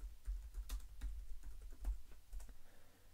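Quick, quiet keystrokes clatter on a Mac computer keyboard, a short irregular run of close taps.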